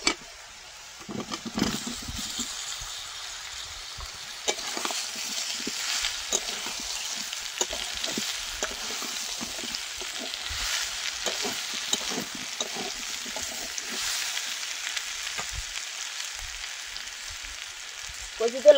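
Taro added to a pan of frying onion and garlic, a steady low hiss of sizzling oil punctuated by scraping stir strokes throughout, close and alone without talk.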